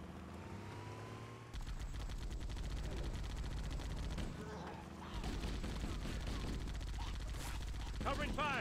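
Bursts of automatic gunfire ring out in the Halo: Combat Evolved shooter, some rattling volleys and sharper single shots over game sound and music, with voices speaking along the way.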